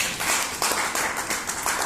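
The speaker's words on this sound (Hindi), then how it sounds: "इसके लिए जोरदार ताली" Audience applause at a business plan show, a steady patter of many hands clapping that sounds somewhat distant and muffled and runs for a couple of seconds.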